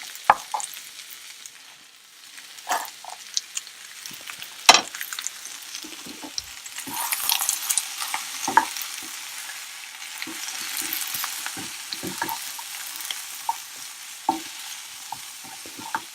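Mixed vegetables, including leafy greens, stalks and squash, stir-fried in a pan with a low sizzle and intermittent scraping and stirring clatters, close and moderately loud, no voices.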